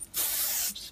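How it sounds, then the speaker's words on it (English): Kenra dry thickening spray sprayed onto short hair, one close, loud aerosol hiss lasting about half a second. "I'm gonna take some of this Kenra dry thickening spray and just"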